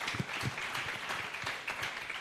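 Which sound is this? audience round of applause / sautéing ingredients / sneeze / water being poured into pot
audience round of applause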